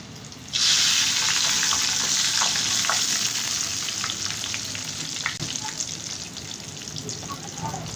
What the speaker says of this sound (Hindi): अब इसे हम जो है वो ऑयल भी हमारा गर्म हो चुका है, इसमें डालेंगे।